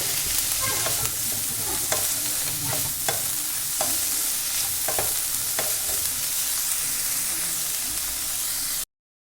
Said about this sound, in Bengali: সবজিগুলো আমি নাড়াচাড়া করে একটু ভেজে নেব।